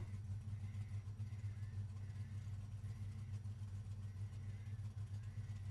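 A Gen 3 Supercar engine idles in the iRacing sim, a steady deep throaty rumble that holds even and continuous throughout, with no voices over it.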